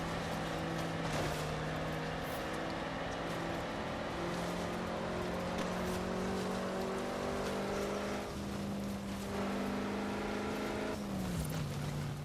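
A car engine in Forza Horizon 4 drones steadily with a throaty exhaust note, holding a constant pitch before dipping briefly near the end, with no talking.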